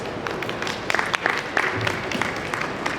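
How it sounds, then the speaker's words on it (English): An audience at a teen debate event claps for a speaker on stage, a brief burst of scattered hand claps at moderate loudness. "Can we give a round of applause?"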